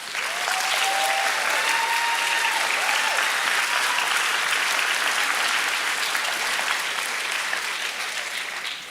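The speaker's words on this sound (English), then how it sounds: "let's give them another round of applause." Sustained audience applause fills a commencement ceremony, a dense steady wash of clapping from a large crowd that continues loud and unbroken throughout.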